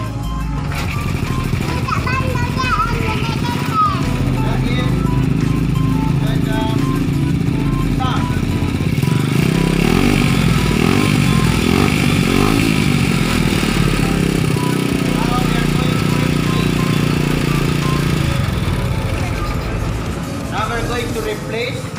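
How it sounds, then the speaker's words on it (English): A small engine of a homemade mini car runs with a steady buzzing putter throughout, with people and children talking over it. "let's start the engine to hear the sound."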